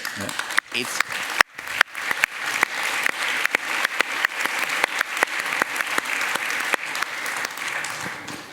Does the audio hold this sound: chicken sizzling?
no